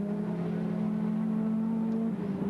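A Holden Commodore race car at the 1990 Bathurst 1000 holds a steady, loud engine drone with a strong low harmonic tone, pulling hard at high revs throughout, with a slight pitch dip near the end.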